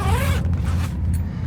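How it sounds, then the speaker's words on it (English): A heavy-duty YKK zipper on a Bundutec BunduSuite shower and dressing room tent is pulled in one continuous, close, loud zip lasting about a second and a half. "YKK zippers, heavy duty."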